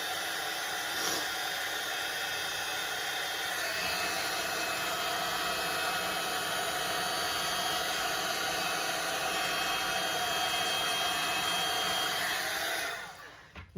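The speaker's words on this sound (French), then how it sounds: "je vais sécher un petit peu avec le heat gun" A heat gun drying ink on a card blows a steady, loud whooshing hiss close by for most of the time, cutting off abruptly at the end.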